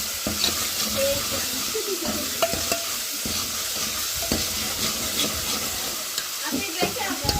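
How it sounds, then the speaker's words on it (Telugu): Onion, tomato and green chili paste frying in a pan for chicken curry, a close, steady sizzle broken by spoon scrapes and stirring clicks, with faint background noises and no clear talking. "అలాగే ఉల్లిపాయ టమాటా పచ్చిమిరప పేస్ట్ వేగుతుందండి బాగా"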